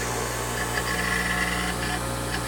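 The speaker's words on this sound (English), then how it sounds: "So theoretically 3600 RPM setting on the grinder." A grinder motor spins at its 3600 RPM, 120 Hz setting, giving a steady, fairly quiet mechanical hum with a faint whine and no talking.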